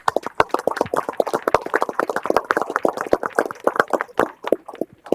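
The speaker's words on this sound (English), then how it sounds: "let's give these boys a nice round of applause" A board of supervisors meeting audience gives a round of applause, a dense run of crisp hand claps at steady volume for several seconds with no voices over it.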